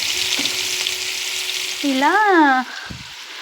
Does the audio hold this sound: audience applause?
no